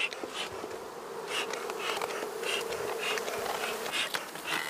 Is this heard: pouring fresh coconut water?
no